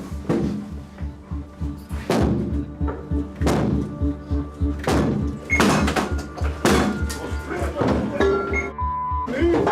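Police ram and force a door open, a series of heavy repeated thuds and bangs at an irregular pace, loud and close, with voices shouting between the blows.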